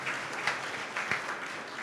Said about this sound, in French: Donc, il faut applaudir